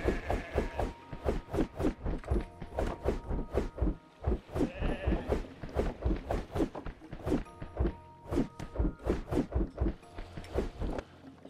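Sheep in the farming game Kubifaktorium bleat over and over in a steady, busy stream of overlapping calls at moderate loudness, with a few soft thunks mixed in.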